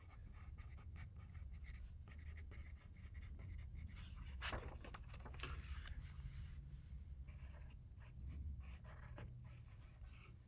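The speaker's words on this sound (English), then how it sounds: "I'm just going to write that on the back." Pen or pencil writing on the back of a paper drawing of a seated woman, a soft continuous scratching with brief strokes, close and quiet against low room noise.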